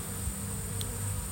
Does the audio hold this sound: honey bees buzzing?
yes